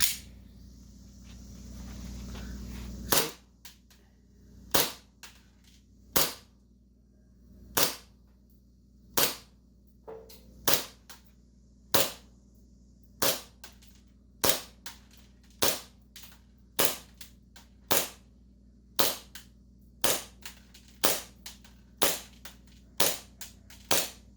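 Airsoft pistol shots from a Novritsch SSP1 or KJW KP-05 Hi-Capa, a loud hiss followed by a long string of sharp single cracks at a steady pace of about one per second.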